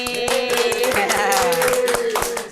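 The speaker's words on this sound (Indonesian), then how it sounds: "Tepuk tangan lagi" Hand clapping in a podcast studio, a steady run of sharp, close claps in quick rhythm with speech-like tones and voices over it.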